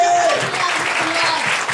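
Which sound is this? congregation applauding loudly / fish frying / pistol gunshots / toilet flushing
congregation applauding loudly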